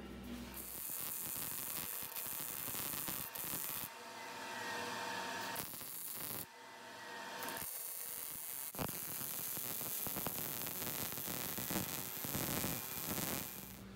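Electric welding of a steel tube onto a gong stand frame gives a steady hiss and crackle that runs in long bursts with short gaps between them, fairly close, with no voices.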